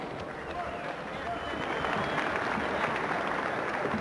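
An enthusiastic crowd at the Stadium Arena in Grand Rapids, Michigan, cheers and applauds at the end of the first round of a boxing match. The roar is loud and continuous and grows stronger partway through, with a commentator's voice over it.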